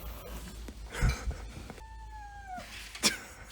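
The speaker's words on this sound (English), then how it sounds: "The cat and the dog are not getting along." Animated cat and dog fighting in a Rick and Morty episode: sharp cat yowls and a drawn-out caterwaul with hissy bursts, close and loud, separated by brief quiet gaps.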